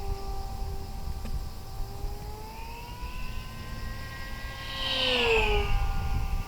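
An E-flite V900 RC jet flies at full throttle, its electric ducted-fan whine gliding up and down in pitch as it passes, growing louder near the end.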